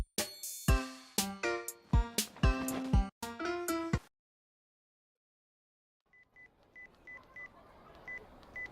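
A rapid series of electronic cell phone keypad beeps from a visual novel game, about eight evenly spaced short tones in a quick rhythm over soft background noise, after several seconds of music and then silence.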